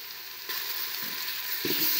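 Garlic added to golden onions sizzles steadily in a pan while pulao is being cooked, a close, continuous frying hiss with a brief louder burst near the end and no talking.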